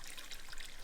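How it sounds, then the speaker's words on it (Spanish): Water trickles from a natural spring in rural Zacatecas, a soft steady babble heard up close with no voices. "Oh, este es el ojo de agua. es el manantial."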